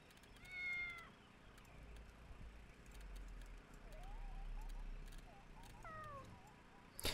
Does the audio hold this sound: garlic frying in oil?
no